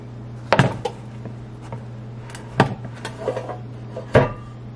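A metal meatloaf pan handled with pot holders as it comes out of the oven: a few sharp clanks and knocks spaced apart, over a steady low kitchen hum.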